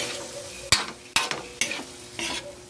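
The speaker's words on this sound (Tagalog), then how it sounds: "magigisa tayo mga lods ng pusit" Squid being sautéed and stirred in a hot pan, a steady sizzle broken by four sharp clanks and scrapes of a utensil against the pan, close and clear with no talk.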